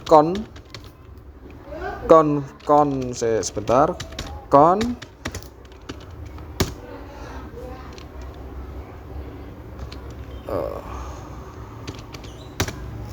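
Commands being typed on a computer keyboard while configuring network routers, scattered keystroke clicks and taps under someone speaking in bursts, with quieter stretches of room hiss between.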